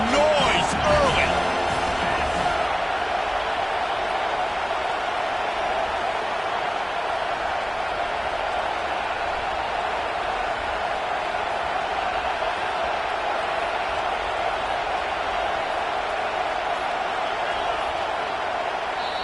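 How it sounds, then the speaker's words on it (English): A packed college football stadium crowd in a video game roars as a steady, dense wall of noise throughout, with a commentator talking over it. "This crowd bringing the energy and noise early."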